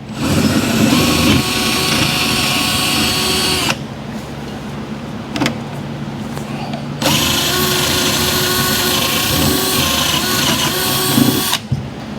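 A Milwaukee M12 3/8-inch right angle drill whirring loudly in two long bursts, its motor pitch steady, with a brief quieter pause of rattling between runs.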